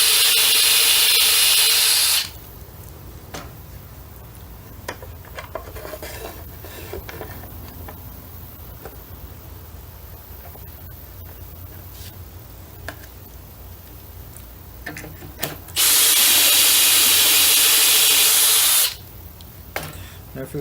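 A cheap handheld power drill bores dowel holes into red oak, whining loudly in two bursts at the start and near the end, with quieter workshop noise and handling sounds between them.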